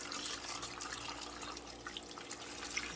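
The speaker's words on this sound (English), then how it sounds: "So I got the hot water, so now I'm getting ready to add this on top of that brick." Hot water being poured onto a coconut coir peat brick, a steady close trickle and splash running continuously without pause.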